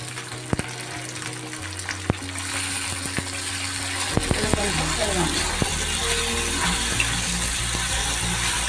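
Onion masala sizzling and frying in a pan for chicken masala gravy, a steady close sizzle with occasional stirring clatter and clicks, growing fuller partway through as more goes into the pan.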